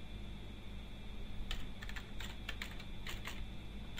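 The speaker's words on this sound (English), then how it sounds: "go to the address bar and type the following address" A web address is typed on a computer keyboard: quiet, close bursts of quick key clicks come in short irregular runs after a second and a half of low background hum.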